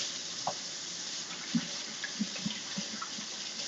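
Kitchen tap running steadily while raw seasoned shrimp are rinsed, a faint continuous hiss of water with a few soft clinks and splashes scattered through it.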